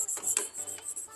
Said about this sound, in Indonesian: Lalu kita amplas bagian puli yang depan itu.